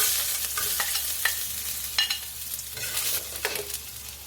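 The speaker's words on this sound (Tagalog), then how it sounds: "Pag mainit na, lagay natin oil. Lagay natin yung garlic." Garlic frying in hot oil in a pan for pasta, a steady bright sizzle with a few soft stirring scrapes, close up and with no voices.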